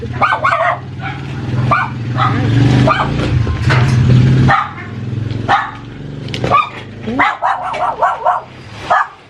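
Several dogs bark loudly and repeatedly close by in a front yard garden, yips and whimpers mixing in, then quick bursts of barking toward the end.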